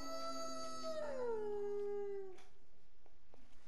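A dog in a video game lets out a single long howl that rises and then slides downward before stopping, followed by faint clicks and game sounds.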